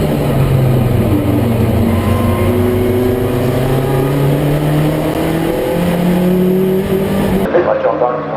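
Race car engines at a 2023 Improved Production race at Baskerville, Tasmania, rising in pitch as they accelerate past, loud and continuous with layered revving tones, cutting off abruptly near the end.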